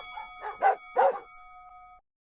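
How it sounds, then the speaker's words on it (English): A dog set off by a doorbell gives four sharp, close barks, the louder pair in the middle, over a steady ringing tone that stops abruptly at the end. "Welcome to doorbell-induced barking, the canine apocalypse."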